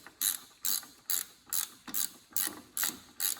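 A ratcheting wrench turns a 17 millimeter bolt on a VW Beetle Type 1 engine, giving eight evenly spaced, crisp clicking bursts close to the microphone with nothing else heard.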